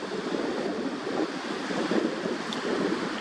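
Steady wind blowing across open water at sunset, a continuous broadband rush with soft surf-like swells and microphone buffeting, no voices.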